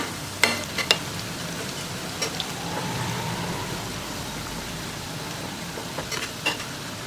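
Onion bonda fritters frying in oil, a steady soft sizzle that runs throughout, broken by a few sharp clicks and taps of utensils, with no one talking.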